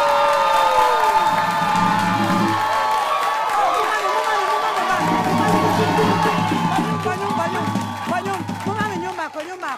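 A studio audience claps, cheers and whoops to welcome veteran actor Kofi Adjorlolo, the crowd noise running steadily beneath a voice and music throughout.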